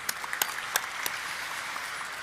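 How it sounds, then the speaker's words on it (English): An audience at a stock listing ceremony claps, a thin, fairly distant wash of applause with a few sharper individual claps standing out early on. "I think a round of applause."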